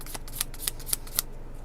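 Tarot cards are shuffled by hand in a quick run of four or five crisp riffling snaps, close and evenly spaced.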